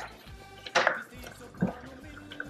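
Fagottini filling of ricotta and pear stirred in a pot with a utensil: two distinct clanks against the pot, the first louder, over faint background hum.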